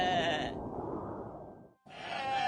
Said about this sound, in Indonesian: Kambing-kambing milik Amir yang berjumlah sangat banyak meninggalkan jejak yang bertumpuk di atas tanah.